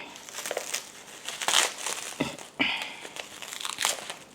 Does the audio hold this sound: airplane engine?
no